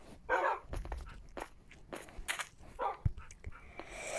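Several dogs moving about, with faint scattered barks, yips and pattering footsteps at a distance over low background noise.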